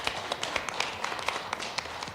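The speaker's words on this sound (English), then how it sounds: "So if you guys want to clap for this, I'm going to give you time for that." A town council meeting audience breaks into applause, a dense spread of overlapping hand claps from many people in a room, steady throughout at moderate loudness.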